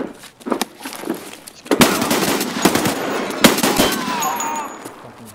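Gunfire in the video game Escape From Tarkov, loud rapid bursts of shots with sharp cracks and echoing tails, a couple of separate volleys spread across the stretch.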